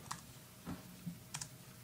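A few sparse, quiet keystrokes tap on a computer keyboard, isolated clicks spaced across a short stretch with no voices.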